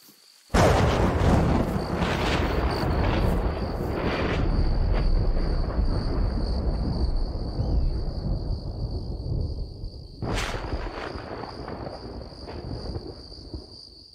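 Thunder in the hunting game theHunter: Call of the Wild, set in Africa, hits in a sudden loud deep crash, rolls for several seconds and fades, then a second crack sounds later and dies away under a steady synthetic hum.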